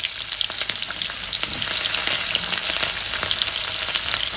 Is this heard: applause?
no